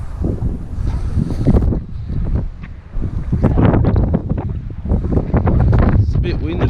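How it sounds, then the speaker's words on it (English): Strong outdoor wind buffets a nearby microphone in steady, roaring gusts that swell and dip while a drone is flown over the coast at Wollongong. "It's a bit windy."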